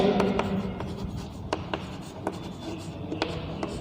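Chalk or marker scratches and taps across a classroom board in short, irregular strokes, fairly quiet and close, with small clicks between strokes.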